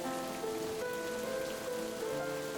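Rain patters steadily in a dating sim game, an even, unbroken hiss blended with soft held background music tones, with no talking.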